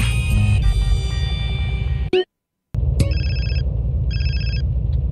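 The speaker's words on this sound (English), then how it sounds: "Another phone call." A cellphone ringtone in GTA San Andreas Remastered, a bright electronic melody sounding in two short repeated bursts after game sounds and a brief silence.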